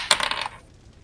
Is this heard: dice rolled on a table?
yes